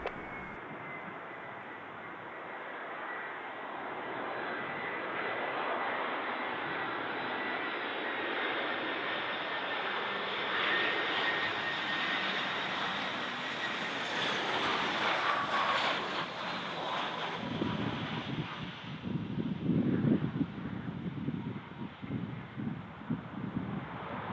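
An EasyJet airliner lands on runway 09 at Bristol Airport in a gusty crosswind, its broad jet-engine roar rising steadily then tapering as it passes, with wind buffeting the microphone and a brief rumble near the end.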